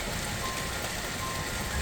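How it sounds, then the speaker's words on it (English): Heavy rain pours down steadily, a dense, unbroken hiss of drops on surfaces without any voices. "It's raining pretty hard right now"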